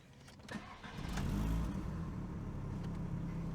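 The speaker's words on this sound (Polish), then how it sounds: "Teraz kurde do auta, odpalić samochoda, włączyć klimę na maksa" A Volkswagen Golf IV's engine cranks briefly and catches, settling into a steady low idle close by, with no voices.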